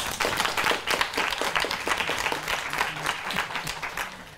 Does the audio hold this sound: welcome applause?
yes